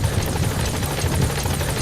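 Support helicopter arriving in Metal Gear Solid V: The Phantom Pain, a loud, steady rotor thrum with low thudding blade beats and engine whine, continuous throughout.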